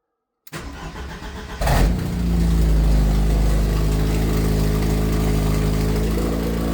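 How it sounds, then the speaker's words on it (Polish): A Ford Escort engine with a reassembled exhaust cranks briefly, then catches and settles into a loud, steady idle rumble, close by. "Odpalam samochód."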